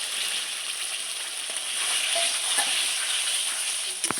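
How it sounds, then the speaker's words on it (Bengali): Steady, bright sizzle of paneer curry simmering in oil in a pan as fried potatoes go in, with a couple of soft clinks and a sharp utensil knock near the end; no talking. "ভেজে রাখা আলুগুলো দিয়ে দিচ্ছি।"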